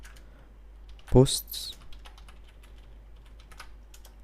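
Clicks from a computer keyboard come in short, sparse bursts while someone writes React code, with one louder clatter near the start and a voice speaking briefly.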